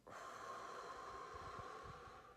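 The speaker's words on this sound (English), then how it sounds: "and breathing it all out." A single slow, quiet exhale of breath, a soft, airy, steady rush lasting about two seconds and tapering at the end, heard alone and close.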